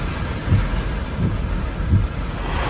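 Steady, dense monsoon rain in Idukki, Kerala, roars without a break, with a few deep low rumbles rolling in underneath. No voices.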